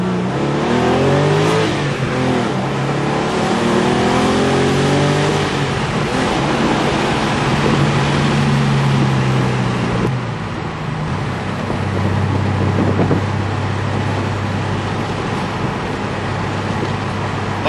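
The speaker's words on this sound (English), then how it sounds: "we're going to do 3 blips of the throttle and an acceleration run" A Porsche 993 Carrera Cabriolet fitted with a Fabspeed Maxflo muffler revs loud and close, with quick throttle blips sweeping up and falling back, then a sustained acceleration run with a steady, deep exhaust drone.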